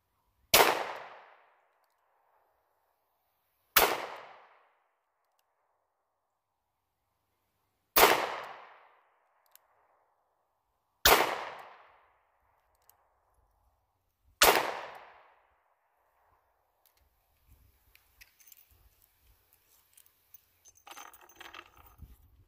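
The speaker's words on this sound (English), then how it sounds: "we'll put 10 shots in there," Five loud, sharp gunshots spaced about three seconds apart at a 25-yard target, each with a short decaying ring, followed by faint rustling and handling noise.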